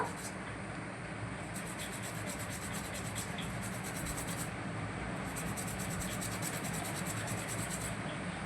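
Conch-shell bangles being rubbed with a paste of Colgate toothpaste and lime, soft steady scrubbing and scratching strokes in repeated bursts, close and quiet.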